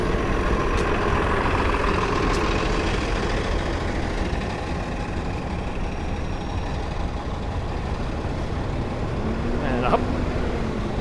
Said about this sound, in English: Caution, bus is turning.